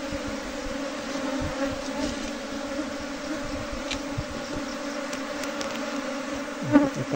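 A honeybee swarm clusters near a beehive, giving a dense, continuous, close buzz that holds steady throughout, with no voices.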